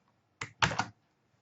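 Two quick clusters of computer keyboard keystrokes, soft and close, typing a short function entry in an otherwise quiet room.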